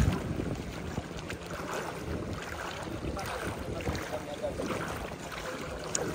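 Rumbling boat noise and wind buffeting the microphone on open water, with voices talking over it.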